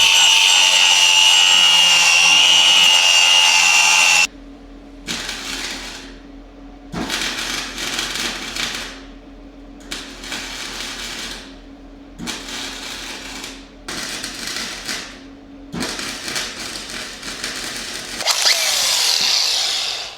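An old Ski-Doo snowmobile body gets its crack ground, with an angle grinder's high whine at first, then a series of harsh buzzing welding bursts separated by short pauses, all close up.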